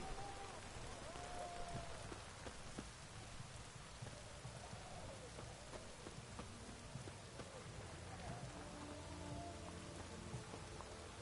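Steady rain falling in the video game The Witcher 3, with a continuous soft patter of drops on surfaces across the whole stretch, evenly spread and faint, with no clear speech.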